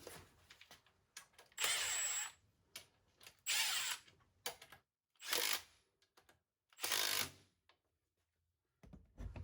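Impact wrench used during a 409 ci LT1 engine build, firing in repeated short loud bursts separated by pauses, close by and alone.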